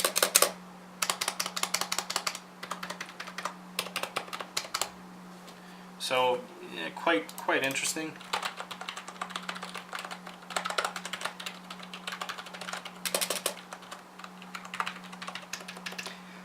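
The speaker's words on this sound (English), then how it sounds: "So a quick little type sound for you guys" Steady clattering keystrokes on a Lexma LX 6000 budget computer keyboard, close and crisp, in bursts with short pauses, while someone talks briefly partway through.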